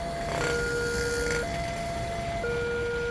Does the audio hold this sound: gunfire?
no